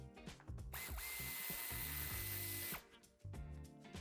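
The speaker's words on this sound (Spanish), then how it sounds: "Quitaremos los tornillos que la sujetan." A power drill or driver spinning out screws holding a plastic panel on a 2021 VW Multivan T7, a steady high whine lasting a couple of seconds bracketed by shorter bursts and clicks, close with no speech.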